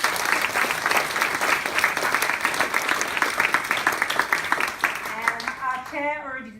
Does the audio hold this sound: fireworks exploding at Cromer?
no